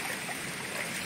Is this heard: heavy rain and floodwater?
yes